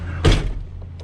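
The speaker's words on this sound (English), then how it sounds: "Close the door." A truck cab door swings shut with one solid, loud thunk, followed by a brief rattle and faint cab noises as it settles.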